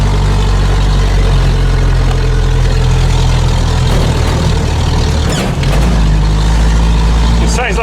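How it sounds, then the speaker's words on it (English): A Land Rover with a blown exhaust rumbles loudly like a tractor during a maize harvest, a heavy, continuous low drone that stays steady across the whole stretch. "My exhaust has just blown a huge hole."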